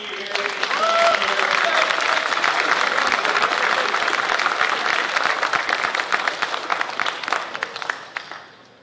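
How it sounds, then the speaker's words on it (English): Audience at a construction trades competition gives sustained applause for the instructors, a dense crowd wash of many hands that holds steady for several seconds before tapering off, with some voices mixed in. "So your instructors deserve a round of applause for getting you here."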